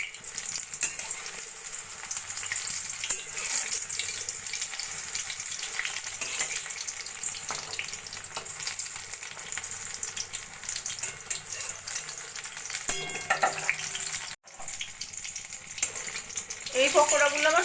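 Coriander pakoras fry in hot oil with a steady, bubbling sizzle, joined by a few clinks of a utensil near the end.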